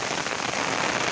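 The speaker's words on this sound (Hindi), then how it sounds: "ମୁଁ ତ ଏବେ ଚାଲିଛି ଏତେ ଖାଲି ବର୍ଷାଟା ହେଉଛି" Heavy rain pours outdoors in Odisha, a dense, constant, loud hiss of drops hitting surfaces with no pauses and no talking.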